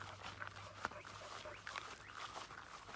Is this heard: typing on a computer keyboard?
no